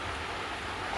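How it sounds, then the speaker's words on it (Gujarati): Rain falls on a rooftop terrace as a soft, even hiss, faint and steady through the brief moment, with no voices. "જો વરસાદ ચાલુ થઈ ગયો છે"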